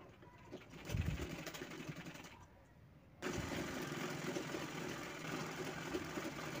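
Sewing machine stitching a kurti, a motor-driven whir that starts, pauses briefly, then runs steadily again at moderate volume, close by with no talking.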